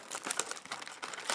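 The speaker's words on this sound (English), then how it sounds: "take all the packs out of the box." Yu-Gi-Oh card packs are pulled from a box with close, busy crinkling and rustling of foil wrappers, steady and fairly quiet, with no speech.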